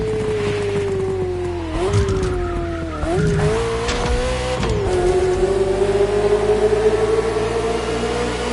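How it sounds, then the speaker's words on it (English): Ferrari F40 in The Crew Motorfest video game: a loud, close engine drone that rises and dips through gear changes, with tire squeal and skidding laid over the roar. "this Ferrari, bearing the apropos designation F40, was the last Ferrari automobile personally approved by Enzo Ferrari"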